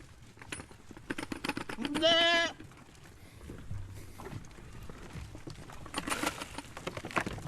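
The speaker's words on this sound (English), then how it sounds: "It's like leaving a trail of goats behind me." Goats bleat at a petting-farm visit, one clear wavering bleat rising over background chatter and shuffling, with a person talking nearby.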